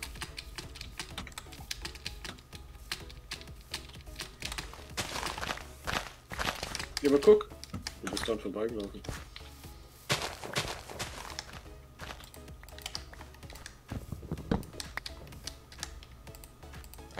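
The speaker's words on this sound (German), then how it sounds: "Aber das ist das Einzige von deiner Tastatur, was man überlaut hört." Keyboard typing heard over voice chat during a Minecraft session, loud and clacky with bursts of keystrokes and thumps, under and between casual German talk.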